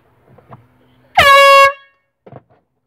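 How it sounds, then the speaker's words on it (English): A loud air horn blasts once for about half a second, with a rich stack of harmonics, standing alone between faint background sounds and a little low rumble. "That's a weak ass horn they got."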